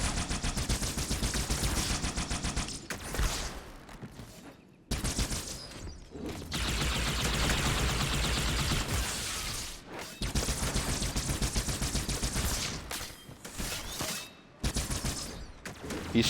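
Remastered weapon fire from the video game Halo 2 Anniversary, with sustained bursts of automatic gunfire and rapid shots continuing almost without pause, loud and dense, with only brief gaps.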